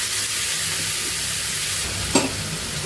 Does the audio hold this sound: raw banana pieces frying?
yes